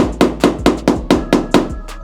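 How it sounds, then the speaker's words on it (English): A hammer taps a car body panel during roof and body repairs on a VL Commodore, eight sharp, evenly spaced metallic knocks, close and loud with no talk. "So I'm going to grab my hammer"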